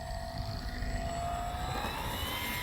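Dynam Me Bf-109 RC model airplane, a light warbird with retractable gear, flying a slow pass, its motor a steady whine that drifts in pitch as it moves overhead, continuous and moderately near with no voices.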